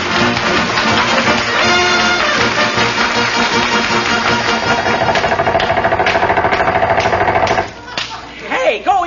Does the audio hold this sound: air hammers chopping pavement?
yes